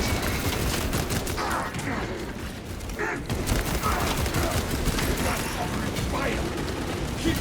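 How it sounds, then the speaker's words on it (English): Servo gun firing continuously in the Warhammer 40,000: Space Marine 2 video game, a dense, loud stream of rapid automatic shots mixed with battle explosions, with game voices calling out over the gunfire. "Crack grenade out! Servo gun engaged."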